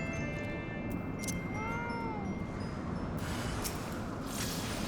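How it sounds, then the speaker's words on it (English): Cat meowing in the video game Final Fantasy XIV, a single drawn-out mew rising and falling, faint and brief over a dense bed of game music and ambience. "Oh yes, it's my cat."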